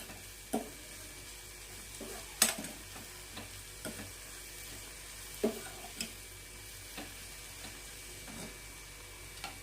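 Spring onion greens being stirred in a pan for a spicy chutney, giving soft scraping strokes and a light sizzle, with sharper utensil knocks against the pan at irregular intervals; no talking.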